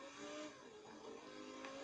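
Zentorno supercar driving in GTA 5 on PS3, a faint, steady engine drone with layered tones running through the short stretch.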